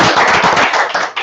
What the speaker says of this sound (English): let's just have a quick round of applause for everybody who participated